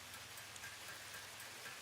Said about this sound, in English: I can only hear the rain.